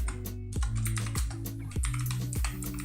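Fast, light clicking of keys on a computer keyboard, a quick irregular run of close taps with brief pauses between bursts.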